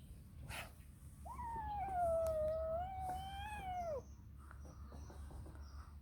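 A single long, wavering cat meow rises, holds and bends downward, fairly clear over a low steady background rumble.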